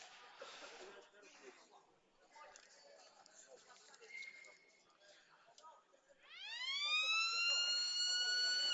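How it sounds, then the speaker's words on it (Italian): At an indoor futsal match, an electronic siren sounds to signal the restart of play, rising sharply with a bright tone near the end, after a stretch of muffled arena noise. "Tanto la sirena dice che si può ripartire."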